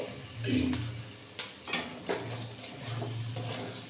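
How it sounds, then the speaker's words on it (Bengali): Salt being stirred into a spiced yam curry in a pan, soft scraping strokes and a few sharp spoon-on-pan clicks over a faint low sizzle, close and quiet, without speech. "ভালো করে মশলার সঙ্গে নুনটা কষে নিলাম"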